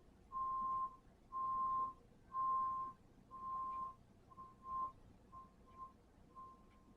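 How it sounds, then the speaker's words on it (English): A truck's backup beeper sounds a steady series of about eight evenly spaced electronic beeps, clear at first and then growing fainter and more broken, over quiet background hum with no speech. "That's a backup beeper."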